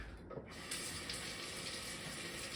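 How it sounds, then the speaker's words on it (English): Running tap water pours steadily over a plant being rinsed at a sink, a constant close hiss and splash that continues unbroken after a brief dip at the start. "Let me just rinse this off one more time."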